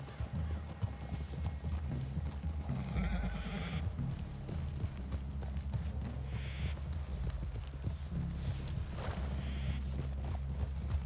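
Horses clip-clop and neigh in Red Dead Redemption 2, steady hoofbeats carrying on throughout with a few short whinnies breaking through.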